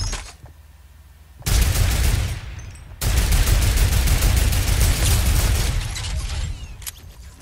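Loud, dense bursts of rapid automatic gunfire in a video game, one sustained volley after a brief lull, then a longer barrage that trails off, with no talking.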